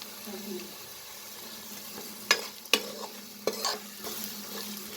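Spices frying in a pan for biranji rice, with a low steady sizzle and a few sharp scraping stirs of a spoon against the pan. No one speaks.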